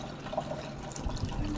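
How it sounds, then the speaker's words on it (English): Cold water runs steadily from a kitchen tap into a pot of boiled eggs, making a close, continuous splashing rush. "Run the cold water."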